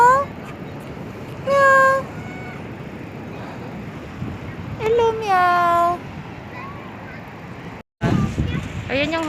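A cat meows several times, drawn-out high cries in two bursts, over a steady wind-like background hiss.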